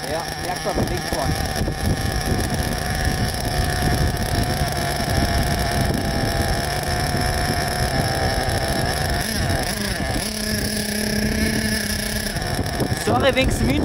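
Motorcycle engine pulling away amid heavy wind buffeting on the microphone, a steady broadband roar with a low engine drone that holds throughout.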